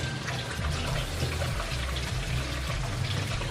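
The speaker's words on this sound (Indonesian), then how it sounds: "pertama-tama kalian harus membasahi tangan dengan air yang mengalir" Tap water runs steadily over hands being wetted at a sink, a soft continuous splashing trickle that holds even throughout, with no talking.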